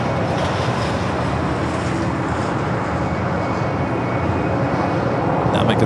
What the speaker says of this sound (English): It's a beautiful A380 Super.